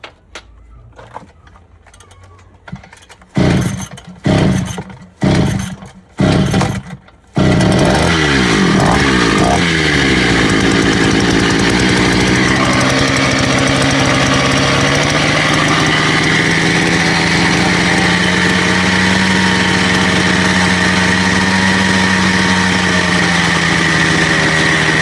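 A motor engine is cranked with several short bursts of revving, then catches and settles into a loud, steady running drone with shifting pitch that lasts to the end.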